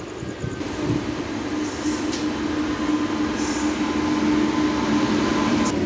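A goods train rumbles past close beside an MMTS local train in Hyderabad, giving a steady rolling roar of wheels on rails with a thin metallic squeal running through it, heard alone without talk.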